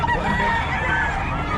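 Boss Lito's roosters crow loudly and close by, a drawn-out cock-a-doodle call over a dense background of other fowl.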